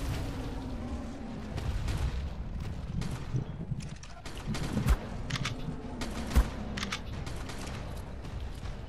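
Gunfire in the Ark Survival video game during a dragon boss fight: repeated bursts of shots and booming impacts over a dense rumbling background of battle noise, continuous and moderately loud.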